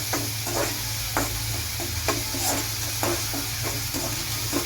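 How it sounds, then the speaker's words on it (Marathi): Onion roasting in a pan on a fast gas stove makes a close, continuous sizzle, broken by regular scraping strokes of a spatula about every half second. "आता हा कांदा आपण पटापटा भाजून घेऊया."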